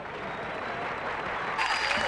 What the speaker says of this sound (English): How about a nice round of applause for Mr. Bill Hicks?